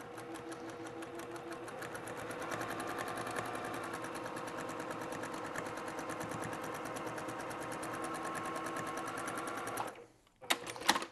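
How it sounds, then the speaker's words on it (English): A sewing machine top stitches quilt fabric along the edge of brown fabric meeting green, running steadily and close for about ten seconds before stopping, followed by a few brief handling noises. "we're gonna go ahead and top stitch this down"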